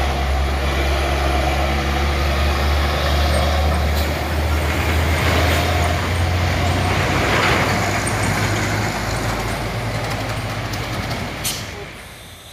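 A loaded Hino trailer truck carrying iron climbs a hill, its engine droning low and laboring nearby amid road noise, with hissing and clanks above it, fading slightly near the end.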